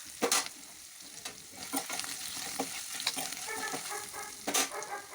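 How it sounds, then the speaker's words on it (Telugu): Coriander and turmeric tempering frying in a pan for lemon rice, with steady sizzling and crackling broken by several sharp stirring scrapes, close and alone with no talk. "కొత్తిమీర కూడా వేగేంత వరకు ఉంచుకుందాం."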